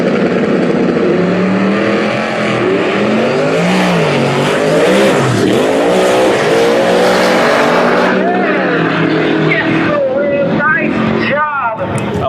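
A Chevrolet Camaro drag racing in the left lane on a small-tire no-prep street outlaw track, its engine roaring loud and sustained with rising revs and tire noise, while a commentator talks excitedly over it.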